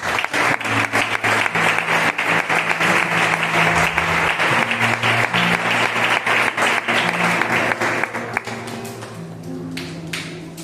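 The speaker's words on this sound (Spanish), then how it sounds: "Fuertes aplausos para el Señor." A church congregation applauds for the Lord, continuous loud clapping over sustained low organ or keyboard tones, fading near the end as the music carries on softly.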